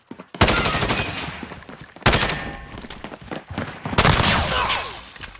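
Gunfire in a video game shootout comes as three loud bursts of rapid shots, each followed by a trailing echo, with no talking.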